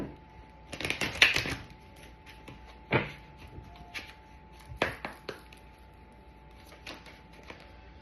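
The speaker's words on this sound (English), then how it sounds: "I'm going to shuffle one more time." Tarot cards being shuffled by hand, a few separate bursts of quick riffling and tapping with quiet gaps between them, close and fairly soft.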